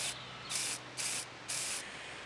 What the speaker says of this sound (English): invert it and press the button until the paint stops coming out